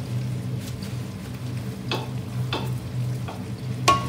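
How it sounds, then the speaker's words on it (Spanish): Flour is stirred in a sizzling pan while making potatoes in green sauce, with a steady frying hiss and several sharp scraping strokes of a utensil against the pan, close up and without talk. "Seguimos removiendo, que se salga la harina por ahí."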